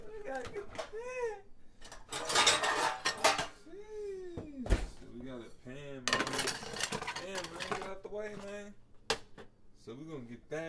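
A pan is pulled out and handled in a home kitchen while making breakfast, giving scattered metallic clanks and clatters of cookware and utensils between bursts of lively talk from people nearby.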